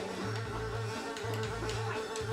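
A buzzing bee in the video game Ninjabread Man hums in repeated, pulsing bursts, close and steady, with brief dips between buzzes and no talk.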